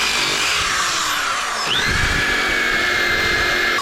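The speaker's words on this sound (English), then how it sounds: "The trick with the rotary is to always keep it moving." An old wheel being polished with a rotary polisher outdoors in bad weather, a loud continuous high-pitched motor whine that dips and shifts in pitch as the tool moves and presses, running steadily throughout with no voices.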